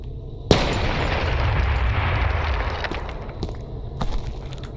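A loud explosion in a DOOM mod video game, with a sharp blast that leads into a sustained rumbling roar and scattered debris-like crackles and pops.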